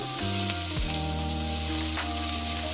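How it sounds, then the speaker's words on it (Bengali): Chopped onion hitting hot oil in a pan for a Bengali chitol fish curry, a steady loud sizzle that runs throughout with brief stirring scrapes and no talk. "এবার দিয়ে দেবো পেঁয়াজ কুচিটা মাছের ঝালের জন্য।"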